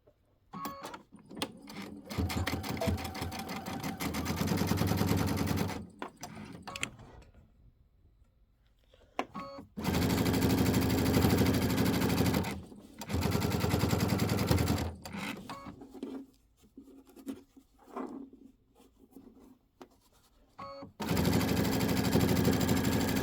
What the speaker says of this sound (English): we're going to sew across the entire top